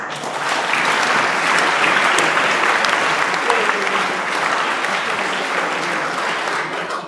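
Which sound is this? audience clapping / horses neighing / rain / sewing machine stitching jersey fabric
audience clapping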